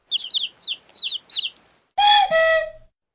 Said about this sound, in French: C'est le poussin, le bébé de la poule.